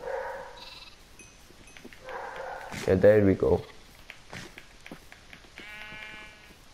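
Sheep bleating in the video game Minecraft, a short wavering bleat in the middle standing out over lighter game sounds, with someone talking briefly.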